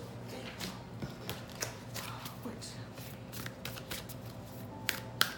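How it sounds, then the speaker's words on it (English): A large deck of goddess oracle cards is shuffled by hand, giving irregular soft riffling and slapping clicks at close range over a low steady indoor hum. "It's a big deck. It's harder to shuffle."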